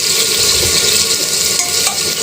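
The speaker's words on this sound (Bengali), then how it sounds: "পেঁয়াজটা সুন্দর করে ভাজি করে নিয়ে" Onions fry loudly in hot oil in a pan for a duck curry, giving a dense, continuous sizzle that stays close and steady throughout with no voices over it.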